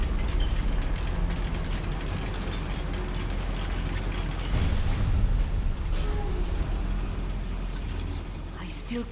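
An old goblin mine lift grinds along in the Hogwarts Legacy video game. Its ratcheting gears give off a steady, close mechanical clatter and creak that continues throughout.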